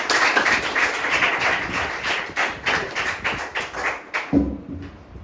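Audience clapping for a school team at a basic schools maths and science quiz semi-final, a steady burst of many hands close by that stops abruptly, followed by a brief low thump.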